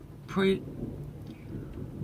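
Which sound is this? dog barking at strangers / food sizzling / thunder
thunder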